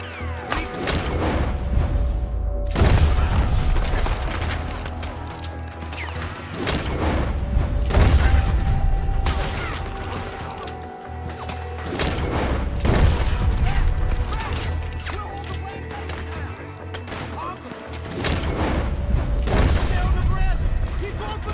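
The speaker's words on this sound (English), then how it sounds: "This gun is so fun to shoot." Gunshots from a gun in Red Dead Redemption ring out as single, spaced booming reports every few seconds, loud over a continuous background of game ambience, with someone talking at times.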